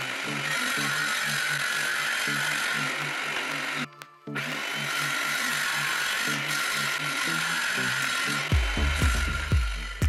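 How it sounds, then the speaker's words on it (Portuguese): A power saw, likely a table saw, runs through 15 mm plywood with a loud, sustained buzzing whine that briefly cuts out midway, then resumes and ends with a few low thumps. "Comecei por cortar a madeira. A madeira que vou utilizar é contraplacado de 15 mm."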